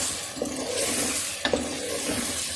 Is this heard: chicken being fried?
yes